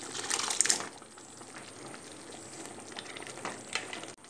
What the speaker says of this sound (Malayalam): ഇപ്പോൾ നന്നായിട്ട് തിളച്ചിട്ടുണ്ട്.